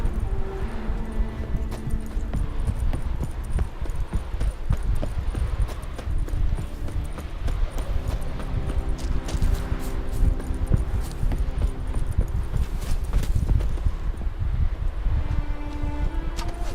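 Hooves trot in a brisk, rhythmic clip-clop as Roach, the horse in The Witcher video game, moves along, close and steady with soft rustling around it.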